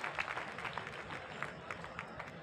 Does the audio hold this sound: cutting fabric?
no